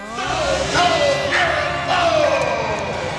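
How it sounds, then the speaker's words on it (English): A huge crowd cheers at a pro lacrosse home opener in a packed arena, with sustained roaring and shouting swelling in waves. Loud whoops rise above the din. "A huge crowd welcomes the Rush for their home opener."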